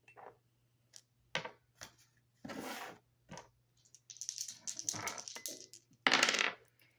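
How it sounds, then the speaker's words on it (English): Dice rattle and clatter on a hard surface in several short, sharp bursts with a few quieter scrapes between them, close by in a quiet room over a faint steady hum. "rolling the dice to see what I need to shuffle a deck to"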